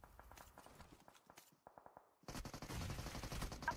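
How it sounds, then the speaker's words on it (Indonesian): Rapid bursts of gunfire in a competitive video game match, sharp cracks in short volleys that grow louder and denser toward the end, with no talk over them. "nampaknya tembakan lanjutan kembali dilakukan"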